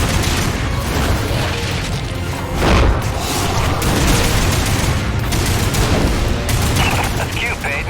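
Loud, dense gunfire and explosive booms from combat in the video game Lost Planet 3, a continuous barrage of shots and impacts layered with game sound and music throughout.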